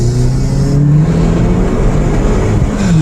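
A 2009 Acura RDX turbo engine pulling hard, a loud close engine drone climbing steadily in pitch, with a brief lift before the pitch rises again.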